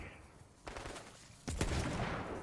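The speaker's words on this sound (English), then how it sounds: "The shotgun on the Faisor, it's got a slow travel time, but it does have a fast firing speed." A Faisor rifle's shotgun attachment in Borderlands 3 fires twice, first a softer blast and then a louder, broader boom, each followed by a sustained noisy tail, with no talking.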